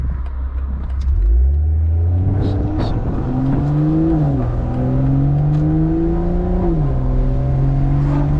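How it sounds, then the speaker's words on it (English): A 2020 BMW M340i driving on backroads, its engine note rising steadily and dipping at each automatic upshift, loud and continuous throughout with a smooth, sustained drone. "that's just the car automatically shifting itself"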